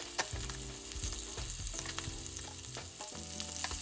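A snapper fillet cooks skin-side down in a hot pan, crackling and sizzling loudly and steadily up close with dense popping, no talk.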